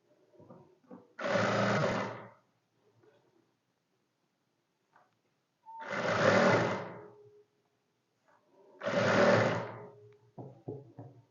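A sewing machine stitches a shirt in three short bursts of whirring, each about a second long, separated by quiet pauses with faint handling clicks.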